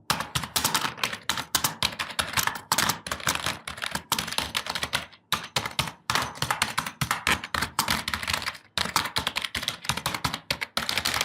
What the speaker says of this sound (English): Here's a quick typing sound test.